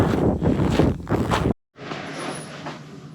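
Cold winter wind blowing hard across a microphone during a walk in a park: loud, rumbling gusts buffet for about a second and a half, cut out abruptly, then return as a steadier, softer roar.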